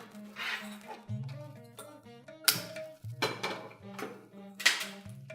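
A pressure cooker being picked up and handled in a kitchen while cooking vegetable pulao, with several metallic clanks and knocks of pots and utensils close by.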